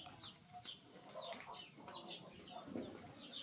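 Backyard pet chickens around a laying nest cluck in short, faint calls that repeat over steady low background noise.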